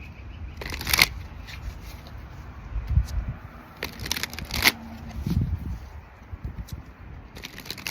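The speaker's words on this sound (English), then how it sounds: "Let's go to the Teal Swan Oracle. Teal Swan frequency cards" Teal Swan oracle frequency cards are shuffled in short bursts of crisp riffling and snapping, separated by quieter handling and rustle, close by with no talk.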